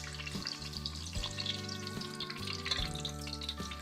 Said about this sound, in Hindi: हम इन्हें डीप फ्राई कर रहे हैं।